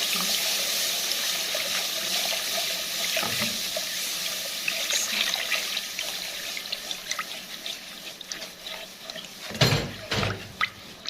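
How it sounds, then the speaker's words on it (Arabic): Milk is poured into a pan of flour toasted in ghee for a béchamel sauce, a continuous liquid splashing and sizzle that later turns into a few louder stirring clatters near the end. "هنزل بقى باللبن"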